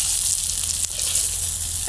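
Singi fish frying in hot oil gives off a close, steady sizzle with a constant bright hiss and light crackling throughout.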